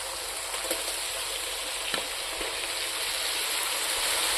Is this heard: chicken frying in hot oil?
yes